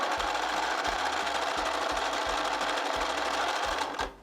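A sewing machine zigzag stitching along the edge of a jeans hem makes a rapid, evenly pulsing mechanical chatter, close and steady throughout with no talking.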